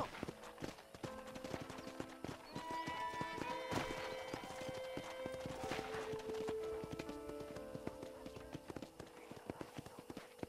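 Hooves clip-clop at a brisk ridden pace in Red Dead Redemption, with a horse whinnying partway through over game music and ambience; the rhythmic footfalls are clear and fairly close.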